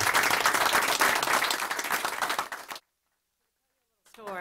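Audience applause at a Medicaid expansion anniversary event: dense, steady clapping from a crowd for about two and a half seconds, then it fades to silence before a voice begins speaking.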